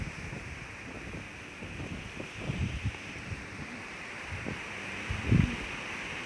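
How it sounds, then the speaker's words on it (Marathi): Strong wind blows outdoors, buffeting the microphone with a steady rushing roar and low gusty thumps that swell and fade, with rustling around it. "खूप हवा सुटली."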